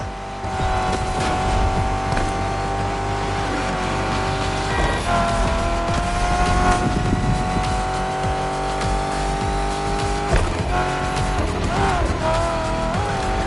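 A muscle car in a racing video game roars with a sustained engine drone and repeated tire squeals and skids, loud and constant over background music, with occasional speech.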